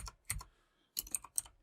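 Code is being entered on a computer keyboard in a programming editor, with a couple of quick clusters of key clicks separated by a short pause, close and clear with no speech.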